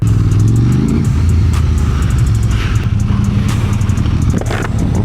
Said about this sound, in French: belle petite moto